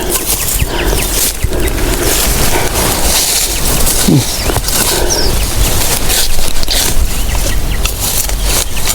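Steady rain patters through a forest beside a stream, a dense wash of drops with occasional louder splashes and faint distant wildlife, no voices.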